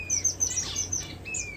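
Canary fledglings chirp close by in a bird room during breeding season, with several high, thin tweets overlapping in quick succession.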